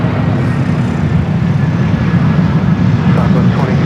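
A Frontier Airbus A320neo takes off from runway 24 left at LAX with a loud, continuous engine roar and a heavy low rumble, steady for the few seconds heard.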